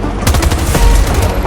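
Light machine gun fire in Battlefield 2042, the new LMG, sounding as a fast, continuous burst of close, loud shots with heavy low-end booms throughout.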